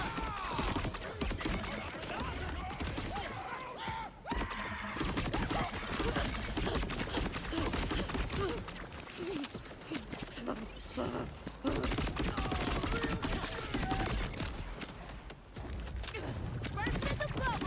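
Rapid automatic gunfire from a weapon in the video game Borderlands 4, sustained loud bursts running nearly continuously with brief gaps, layered with game effects and a voice talking over it.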